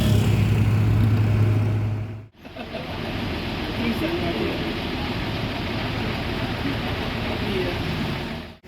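A Gumarang Jaya bus pulls away from a bus terminal, its engine a steady broadband rumble that drops out briefly partway through, with someone talking over it throughout.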